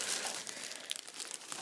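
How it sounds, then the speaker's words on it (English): Crinkly plastic wrapping being pulled off an air hockey tabletop, a close, quiet stream of irregular crackles and rustles with no talking. "Here, I'm just gonna unwrap it right now."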